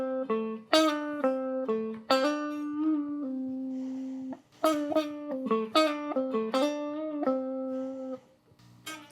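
Electric guitar plays a blues lick with a bend and pull-off, a run of clear sustained single notes and slides with brief pauses, alone and close.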